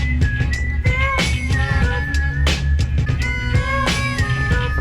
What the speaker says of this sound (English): I've always been a big fan of when people whistle on a track.